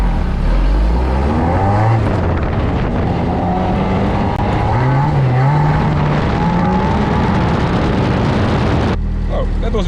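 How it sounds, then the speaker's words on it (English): A BAC Mono sports car in traction control mode 1 slides sideways, its engine revving loudly and steadily with shifting pitch and tyre noise throughout, cutting off abruptly near the end. "It was on 1 and it let me go sideways quite a bit"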